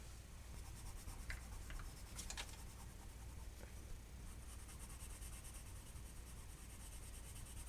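Colored pencil crayons scratch and rub across paper while shading, a soft continuous close-up scraping with brief sharper strokes.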